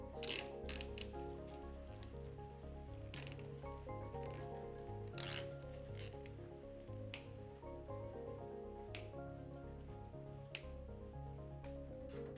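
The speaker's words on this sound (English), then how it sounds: "Use zip ties to bundle the wire harness," Zip ties ratchet tight around a wire harness, cables and vacuum line on a DF Goblin kit car build, giving repeated short zipping clicks close up, at an uneven rhythm over a low mechanical hum.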